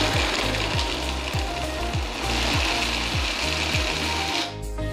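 A kitchen blender churning aloe vera and mint juice, giving a loud, rough whir with a fast repeating mechanical rattle and clacking pulses, close up, before cutting out.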